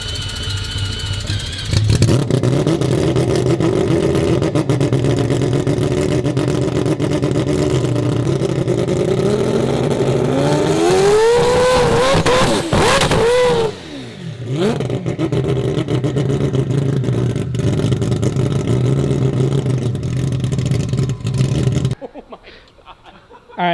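An AWD four-rotor rotary car fires off loud, close 2-step launches, its engine revving hard and crackling in sustained bursts with sweeping pitch changes, a brief drop partway through, then cutting off abruptly near the end.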